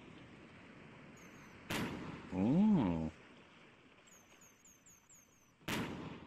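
Two sharp firework bangs in VRChat a few seconds apart, with faint whistling crackles between them and a short exclamation from a voice.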